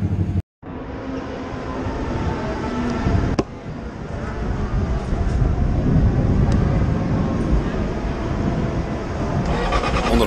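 Racing motorcycles on a practice run at a track in Pattaya, Thailand, a loud steady engine roar that continues after a brief cut near the start, with a sharp spike around the third second and no talk.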